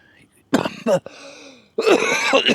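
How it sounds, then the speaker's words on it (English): A person clears their throat and coughs in a few short harsh bursts, close to the microphone, with quiet pauses between, suffering sinus and allergy trouble. "Sorry for the coughing."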